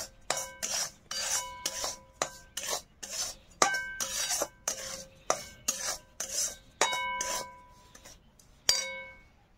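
Semolina roasting in a wok for upma, stirred with a metal spoon that makes repeated dry rasping scrapes and light clinks against the pan, close and steady with brief pauses between strokes.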